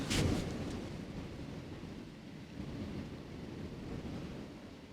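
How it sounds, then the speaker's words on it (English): Wind gusts buffet a parked van, a steady low rumbling roar with a louder burst at the start, heard close and without talk. "It's just the wind is blowing the van"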